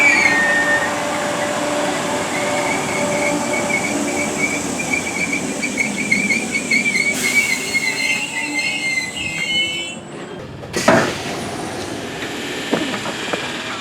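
Merseyrail train pulling into Spital station, a steady rumble of wheels with high squealing tones drawing out along the platform, loud and close, then a sudden shift near the end as it comes to a halt.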